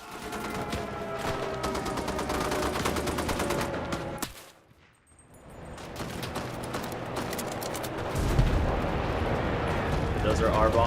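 Bomber aircraft dropping bombs in the video game Enlisted, a dense roar of rolling explosions and rumbling blasts that briefly cuts out and then resumes, loud and continuous.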